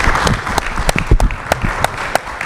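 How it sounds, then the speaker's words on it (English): Brief burst of audience applause for conference panelists at the close of a business intelligence panel, scattered sharp claps over a steady crowd patter, fairly close and loud. "Just everyone give a round of applause to the panelists."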